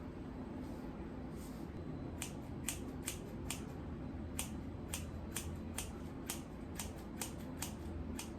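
Scissors snip through a hairpiece in a steady series of short, crisp cuts, close and fairly quiet, with no talking.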